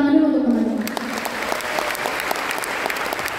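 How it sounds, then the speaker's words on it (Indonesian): A crowd at a student gathering breaks into sustained applause, dense steady clapping that starts after a brief spoken moment and continues evenly to the end. "Tepuk tangan dulu untuk teman-teman."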